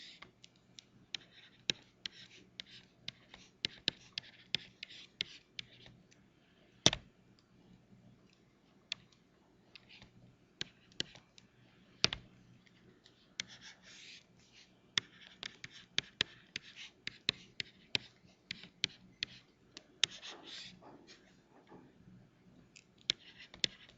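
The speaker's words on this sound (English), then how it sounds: "I will write it up here" Chalk or marker writing on a board during a math lecture on functions of several variables, a long run of quiet scratchy strokes and sharp taps in irregular rhythm, close and alone without talk.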